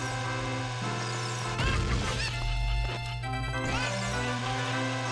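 Chickens squawking in The Legend of Zelda: Ocarina of Time on the 3DS, heard as loud, honking cackles over steady game music, with a harsh burst of flapping noise in the middle.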